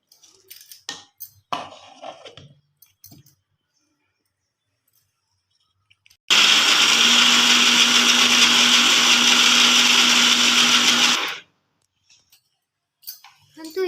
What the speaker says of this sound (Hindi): नड़िया को भल भाव धोई करी ताको आमे ग्राइंडिंग करी नबा।